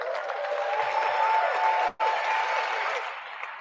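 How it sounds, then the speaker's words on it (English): Steady audience applause at Harry Belafonte's Lifetime Achievement Award acceptance, a dense continuous clapping from a large crowd with a brief dropout in the middle. "accepting this Lifetime Achievement Award to a thunderous applause"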